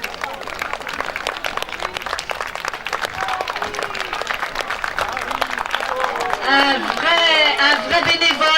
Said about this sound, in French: Henri Cabaret, on peut l'applaudir.